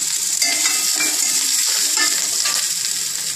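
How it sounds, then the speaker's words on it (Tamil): Raw banana poriyal with grated coconut is turned over in a hot pan, giving a constant close sizzle with a few soft scraping stirs and no talking. "இதை நல்லா பெரட்டி எடுத்துட்டு"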